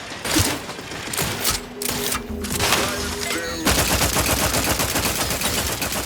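Dense, rapid gunfire in The Outer Worlds 2: sustained automatic bursts and overlapping shots, loud and close, with the firing growing into a continuous rattling barrage in the second half.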